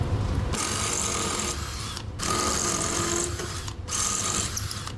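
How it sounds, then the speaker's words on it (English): A power drill drilling into a wall whines in long, steady bursts, stopping twice briefly before starting again, close and fairly loud. "I've got a drill that I'm going to use to start out with"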